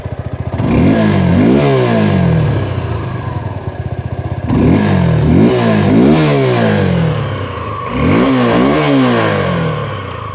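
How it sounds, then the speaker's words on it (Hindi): A motorcycle engine idles and then revs sharply in three separate bursts, each climbing and dropping back to a steady idle, close and loud throughout. "चलिए इसकी एग्जॉस्ट नोट मैं आप लोगों को सुना देता हूँ"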